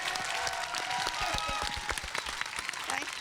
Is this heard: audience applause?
yes